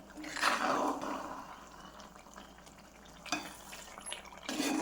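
Chili powder is stirred into tomato thokku in a pan, making scraping, sizzling stir noises in a couple of bursts over a low background hum.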